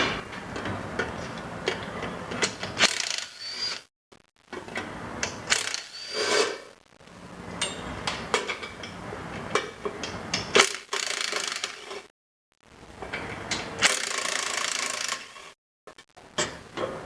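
A socket wrench loosens the 3/8-inch cover bolts on a Graco pump, giving close, irregular bursts of ratcheting clicks and tool clatter, separated by short silent pauses.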